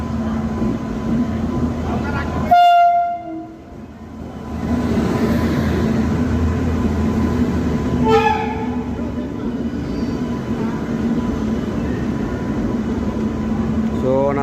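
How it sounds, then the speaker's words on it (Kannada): Chennai Central Express train arriving at a station platform, a steady low rumble of the rolling carriages with a couple of sharp horn or whistle blasts, heard with background voices and station bustle. "Chennai Central Express train is arrived."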